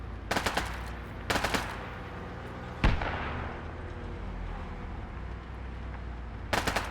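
Artillery and heavy gunfire in ArmA 3: short bursts of loud rapid shots come in clusters, with one sharp heavy blast in the middle and a rumbling tail between volleys.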